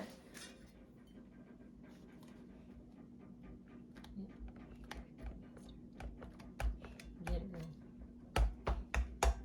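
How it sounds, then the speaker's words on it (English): A fork pokes holes in a tortilla before it goes into an air fryer, giving a string of quick, close taps and clicks, sparse at first and then faster and sharper toward the end, beneath low background hum. "poke holes in our tortilla so it doesn't bubble up when it goes into the air fryer"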